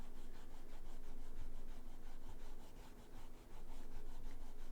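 An eraser rubbing back and forth on paper, a steady, close, continuous scrubbing with quick repeated strokes and a brief pause, with no talking.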